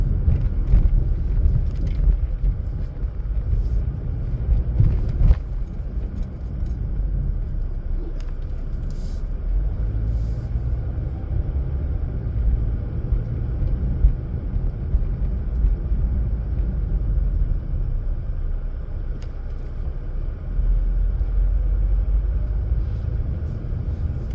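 A car drives along a highway on a road test in Mississauga, giving a steady low road and engine rumble with some wind noise and a few faint clicks inside the cabin.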